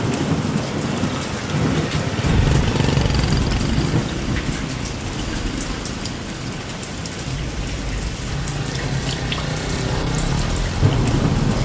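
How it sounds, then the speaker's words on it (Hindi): Heavy rain pouring down outdoors beside a large tree, a loud, dense and constant hiss of drops on surfaces with rumbles of thunder underneath, no voices. "भारी बारिश आ रही है।"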